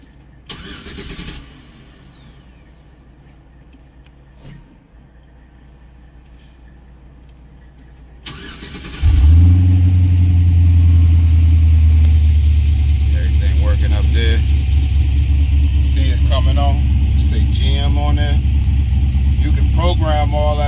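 An Oldsmobile Cutlass G-body engine cranks and fires up, then settles into a loud, steady rumbling idle that runs on, with someone talking over it.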